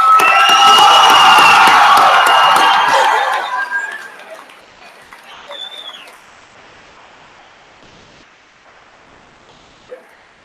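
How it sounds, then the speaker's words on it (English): A stadium audience at a 2019 high school graduation ceremony bursts into loud applause and cheering for the graduating class, dense and roaring for about three seconds before fading into scattered clapping and quiet murmurs. "With audience, join me in applauding the class of"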